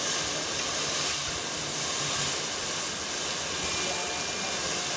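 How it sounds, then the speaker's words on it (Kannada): Bitter gourd pieces frying in a pan make a continuous, even hiss and sizzle, fairly loud and close, with faint low background noise and no clear speech. "ಎಲ್ಲ ಹಾಗಲಕಾಯಿನ ಹಾಕ್ಕೊಂಡು ಫ್ರೈ ಮಾಡ್ಕೊಬೇಕು"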